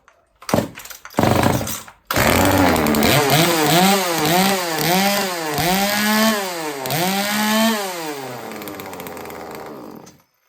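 A small engine sputters through a couple of pull-start attempts, then catches and runs loudly, revving up and down in a wavering rhythm before cutting off.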